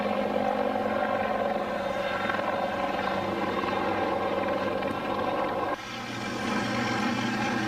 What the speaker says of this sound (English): Team Reaper, a small force of armor supported by Cobra helicopters